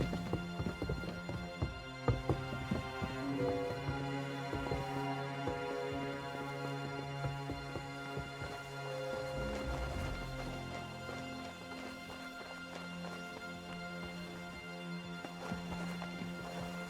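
Rhythmic clip-clop of horse hooves running in the video game Kingdom Come: Deliverance 2 over a steady, busy musical backdrop, continuous and moderately loud throughout.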